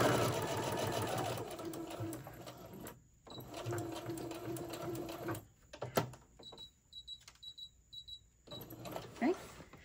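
A sewing machine stitches a fabric basket in rapid whirring bursts, running in several runs broken by short pauses, with faint clicks and handling noises between.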